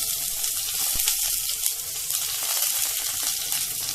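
Onion, curry leaves and mustard seeds sautéing in hot oil for Kerala-style cabbage thoran, a steady close sizzle with bright crackle and one sharp pop near the start, no voices.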